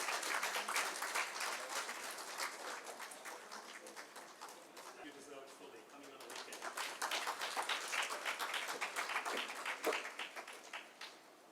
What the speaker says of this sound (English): Can we have a huge round of applause for Ms.